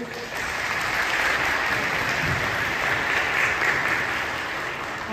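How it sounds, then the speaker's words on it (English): A church congregation at an all-age Christmas celebration claps together in a sustained, even round of applause, filling the space with continuous dense clapping from start to finish. "I think you all deserve a round of applause."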